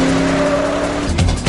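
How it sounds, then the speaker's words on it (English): A car chase from a movie, with a loud, close engine roar and sustained tire squeal, ending in a sharp skid and thump. "they have themselves a little car chase"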